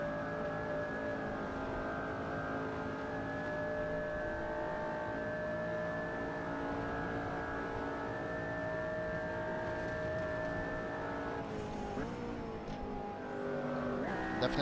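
A McLaren P1 driven around the Nordschleife in the racing game Assetto Corsa: a sustained engine whine holding steady pitch, then dropping and wavering near the end as the car brakes, with no talk.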